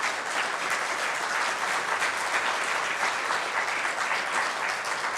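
A church congregation claps together in steady, dense applause, loud and continuous throughout with no voices over it.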